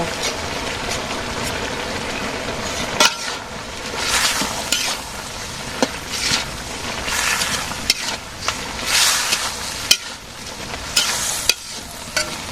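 Fish frying in a pan with coriander leaves and garlic paste, a steady loud sizzle broken by scraping stirs and occasional clinks, with no talk.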